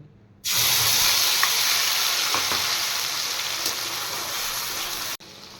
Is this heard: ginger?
yes